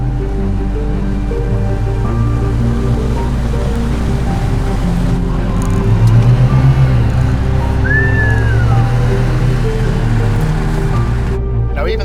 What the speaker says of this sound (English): this car is just leaping through the gears nice and easily